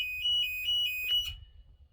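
The troop alarm of an M1078 LMTV military truck, sourced from the air brake alarm, sounds as a loud, close electronic tone pulsing in rapid beeps for over a second before cutting off.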